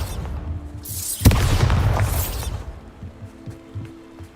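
A Bombarda spell explosion in Hogwarts Legacy erupts as a sudden loud boom with a crackling, debris-filled burst that rumbles and fades over a couple of seconds.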